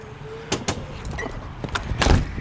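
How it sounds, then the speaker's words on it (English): A door being opened close by, heard as a series of clunks and rattles with a short sliding scrape near the end, with no voices over it. "door's open."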